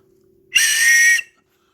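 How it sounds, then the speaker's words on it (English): A small plastic whistle from a life jacket blown once, a loud, close, shrill blast lasting about half a second. "You've got a little whistle as well, just to"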